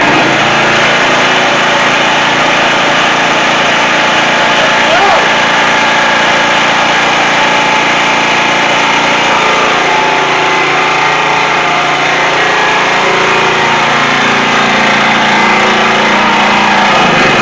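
A Champion 4500 generator engine runs steadily after a repair to unseize it, a loud, continuous close-up drone that holds even throughout.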